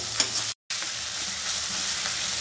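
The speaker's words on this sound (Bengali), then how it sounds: "পেঁয়াজটা আমি একটু ভাজবো নরম করে।" Chopped onions sizzle and fry in a pan for a Bengali-style chilli chicken, a steady close crackling hiss that cuts out briefly before resuming.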